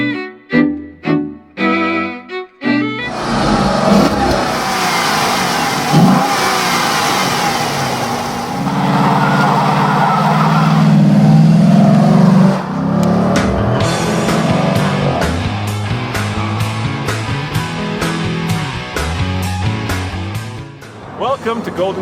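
A 2011 Volkswagen Touareg driving off-road: a loud, steady engine drone with rising revs and surging acceleration runs for most of the stretch, blended with other dense sound and opening with a few sharp bursts.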